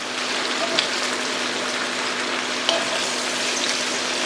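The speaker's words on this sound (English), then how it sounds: "These onions have to be brown. They have to be caramelized" Onions fry over medium heat while they caramelize, giving an even, hissing sizzle throughout with a couple of sharp clicks from stirring.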